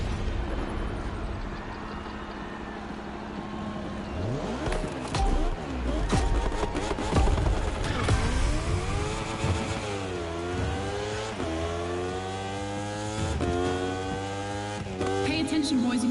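A racing motorcycle engine in a video game idles, then revs hard several times, its pitch climbing and dropping in repeated sweeps before settling into a loud, steady high-revving drone.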